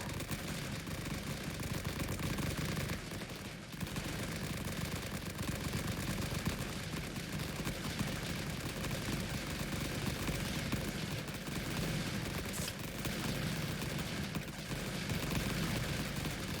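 Dense, continuous World War I gunfire from the Rising Front sandbox game, with rifle and machine-gun fire massed into a loud, unbroken battle roar that briefly dips near the fourth second.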